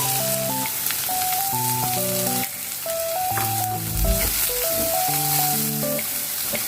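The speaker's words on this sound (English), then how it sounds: "Now add the chopped onions. Fry for 3 minutes." Chopped onions sizzle steadily in a hot pan, a continuous frying crackle running the whole way through beneath a melodic instrumental backing track.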